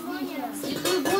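Small spoons clink and knock together as they are handed around, a few quick metallic taps close by, with a voice briefly audible.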